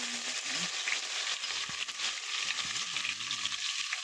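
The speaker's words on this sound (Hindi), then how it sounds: "ये इसमें हम अदरक लहसुन का पेस्ट डालते हैं।" Ginger-garlic paste fries in a hot pan with a steady, close sizzle and crackle, broken by light stirring and scraping sounds throughout.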